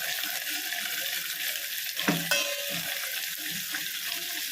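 Shark puttu mixture being sautéed in a frying pan for a Tiruvallur-style home lunch gives a steady, close sizzling hiss with a brief scrape of stirring partway through, no voices.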